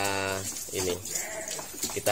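Sheep bleating during a bath at a pen, several loud close bleats with strained tones in the first second, followed by mixed farmyard noise and a voice talking.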